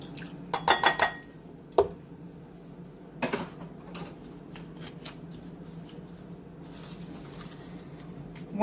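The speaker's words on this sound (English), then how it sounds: "it says to whisk milk, vanilla extract, cinnamon, and salt together" Milk, vanilla extract, cinnamon and salt are whisked in a mug, giving a flurry of bright clinks and scrapes of a utensil against the mug early on, then sparser taps over a quiet room.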